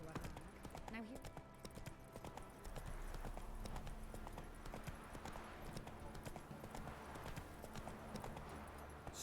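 Roach's hooves clatter in a brisk, steady clip-clop in The Witcher 3 video game, close and continuous, with faint speech and a low background rumble underneath.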